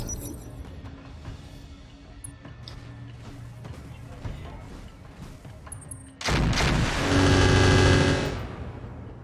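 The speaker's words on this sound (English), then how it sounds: "Was that 2 autocannons or an ultra autocannon?" Autocannon fire from a mech in MechWarrior Online: a low, steady mechanical rumble breaks into a sudden loud, dense burst of rapid cannon shots in the last few seconds, close and dominant.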